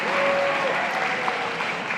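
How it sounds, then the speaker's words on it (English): A room full of people claps steadily for about two seconds at a school athletics awards ceremony, honoring a rugby program; dense, even applause fills the space with no break. "give everybody who was here a round of applause for showing up for the rugby program"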